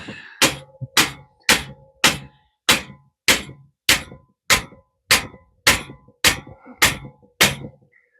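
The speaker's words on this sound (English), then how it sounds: "Let's try pushing this bolt through." A hammer strikes a stubborn control arm bolt on a 1993 quad about a dozen times in a steady rhythm, each blow a sharp, close metallic clang with a short ringing decay.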